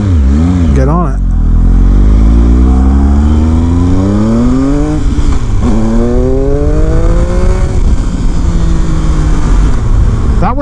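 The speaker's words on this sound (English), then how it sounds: "That was a second gear wheelie." A 2019 Triumph Speed Triple RS motorcycle wheelies in second gear, its engine loud and close as it revs and climbs through rising pitch sweeps, drops briefly, then pulls again, while a rider's voice is faintly audible.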